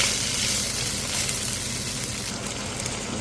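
Garlic and onion sizzle steadily in a hot pan while being sautéed, a loud, dense frying hiss that holds evenly throughout with no voices.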